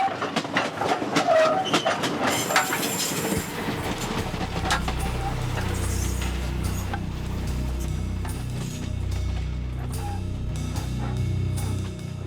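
An old train rolls along rails in the Congo, with a continuous rumbling clatter of wheels and rhythmic clickety-clack, plus rattling carriages and metallic knocks, loud and steady throughout.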